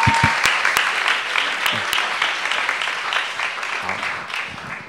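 A church congregation applauds with sustained, moderately loud clapping that slowly tapers, with a few sharper claps standing out nearby.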